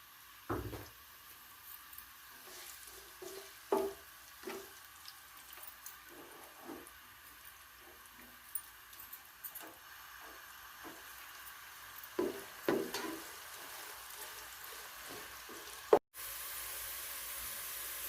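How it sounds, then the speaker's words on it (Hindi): Onion frying in ghee in a cooking pot until golden brown, a quiet sizzle broken by scattered clinks and stirring knocks, ending in a sudden burst of hiss. "अब इसमें हम प्याज डालेंगे और इसको गोल्डन ब्राउन करेंगे।"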